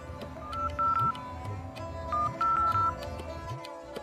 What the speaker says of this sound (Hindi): फिर मैंने एक नंबर डायल किया।